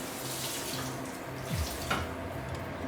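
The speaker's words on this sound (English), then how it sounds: "Again, just wash my hands." Water from a kitchen tap runs steadily into a sink as hands are washed under it, a continuous close splashing hiss with small shifts in flow.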